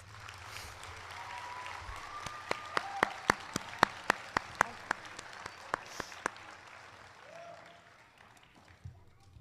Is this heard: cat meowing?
no